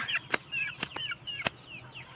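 A chicken clucks in short, soft, repeated calls, fairly close and quiet, with a few sharp knocks in between and no talk.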